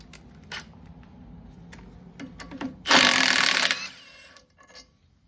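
A bolt is worked loose from the teeth of an Alpine Rhino stump grinder wheel: scattered ratcheting clicks, then a loud, harsh burst of ratchet or impact-tool noise lasting about a second before fading back to sparse clicks.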